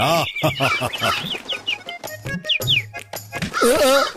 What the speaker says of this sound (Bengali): অনেকদিন পর আমি কোনো পাখির ডাক শুনছি।